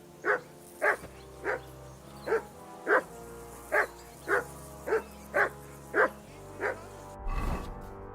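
Steady, repeated barking from a dog in the medieval world of Kingdom Come: Deliverance II, about eleven sharp woofs at a regular pace, close and clear, ending in a rougher, noisier scuffle.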